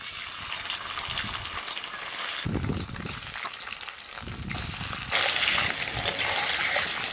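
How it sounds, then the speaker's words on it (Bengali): Paneer frying in oil in a wok, a steady hissing, spattering sizzle that swells and surges louder toward the end, with no talking. "কড়াইতে আরেকটু তেল দিয়ে দিয়েছি, এবার পনির গুলো ভেজে নেব।"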